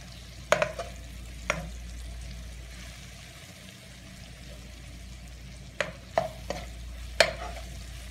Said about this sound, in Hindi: और मसाले को और भूनने दें।